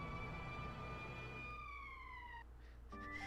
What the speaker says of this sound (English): that's why they call it an emergency siren now